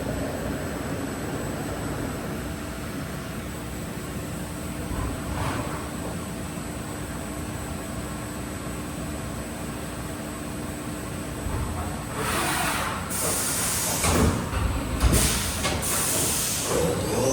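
A 2021 Haas VF4SS CNC vertical machining center tapping with coolant-through-spindle: a steady loud hiss of spraying coolant and a machine hum, swelling into rougher bursts of spray near the end.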